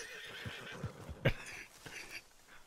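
A horse in a video game neighs and whinnies in a few short, fairly close bursts over roughly three seconds, with faint hoof-like taps and no speech.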